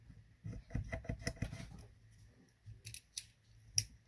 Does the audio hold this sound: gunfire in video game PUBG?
no